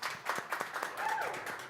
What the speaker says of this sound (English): please give a round of applause for Vincent